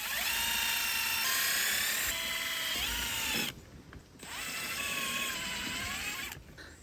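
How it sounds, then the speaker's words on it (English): A power tool whines at high pitch as a mechanic works on front-end car parts such as alternator brackets, running loud in two long bursts with a brief pause between them. "Bring some power tools into this situation."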